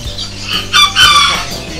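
Bantam chickens cluck and crow close by at a market in Chatuchak, in a brief, loud burst of fowl calls.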